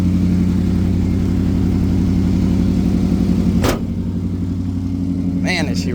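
A 1977 Dodge car engine running under its own power, a loud, steady low rumble with strong throbbing harmonics that drops briefly and settles back, with a sharp noise burst partway through and another near the end.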